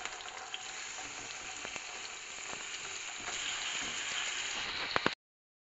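Pork steak fries in hot olive oil with a steady, close sizzle that grows slightly louder toward the end, punctuated by a few sharp pops, then stops abruptly.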